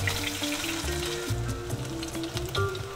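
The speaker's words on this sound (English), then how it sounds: "Pan fry for 2 to 3 minutes on each side or until crispy and golden brown." A flattened pancake pan-frying until crispy and golden, a steady close crackling sizzle with small pops throughout and no voices.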